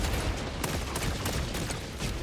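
Sustained, dense gunfire from a Talon in Helldivers 2 rattles on without pause, a loud continuous burst of rapid shots filling the whole stretch.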